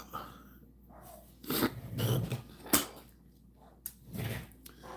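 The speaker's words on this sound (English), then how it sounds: "I hear my doji is barking at something" A pet dog barking at something somewhere off from the listener, a few muffled gruff bursts spaced irregularly, with breathy noise between them.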